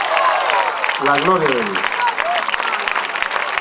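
Congregation applauding for Christ during a church service, a steady wash of clapping throughout, with a voice speaking over it partway through.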